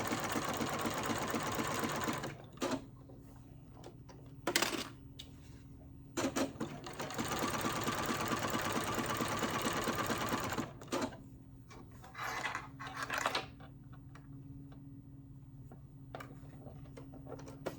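A serger overlocking two layers of fabric, running in long buzzing bursts with short pauses between, loud and close with a fast rhythmic chatter.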